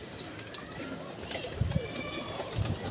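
Soft pigeon coos rise a few times over a steady murmur of background noise, low and rounded, with a couple of brief thumps.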